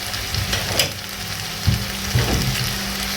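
Chicken stir fry sizzles in a pan with spices and a dash of soy sauce, a steady close crackle with a few louder stirring scrapes and bumps scattered through.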